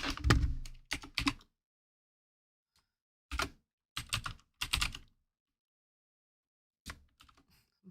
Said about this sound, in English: My microphone's right in front of my keyboard